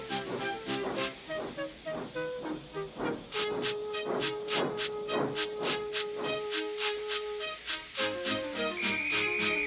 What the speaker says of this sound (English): Gordon, with much noise and blowing of steam, got ready to back onto the train.